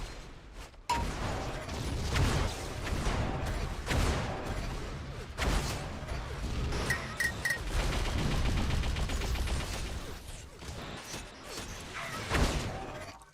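Rapid minigun fire in Unreal Tournament 4 during a 2v2 team deathmatch, dense rattling bursts with sharp impacts and weapon pickups, steady and loud throughout, with brief commentary underneath.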